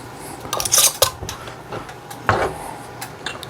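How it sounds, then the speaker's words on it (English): Metal canning jar lid being lifted with a magnet stick while canning jalapeños, giving several short close clinks and taps of metal, with two brighter clattering bursts and softer ticks between them. "take our magnet stick and get a lid"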